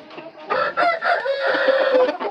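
Rooster crowing and clucking loudly and close by, a long harsh crow with rasping, wavering tones and shorter clucks mixed in.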